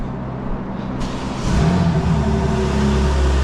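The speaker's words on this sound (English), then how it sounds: "let's give it a cold start, see what it sounds like" A 2024 BMW M4 Competition G82 with xDrive cold starts with its exhaust valves closed: after a quiet moment the engine fires with a sudden rise, then settles into a loud, steady, droning idle.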